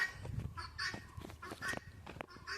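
A hen clucks and squawks repeatedly in an uneven series of loud calls from inside a chicken coop, near and without talk.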